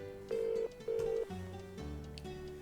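An old-style telephone rings twice in a Nancy Drew mystery game, two short buzzing rings followed by quieter tones, clear and alone without speech.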